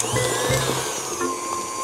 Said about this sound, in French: Mon mixeur est parti un peu trop vite.